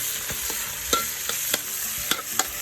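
Sticky rice being stir-fried with crispy pork and fresh pork in a pan, a steady sizzle broken by several sharp scraping stirs of the spatula, close and clear with no talking.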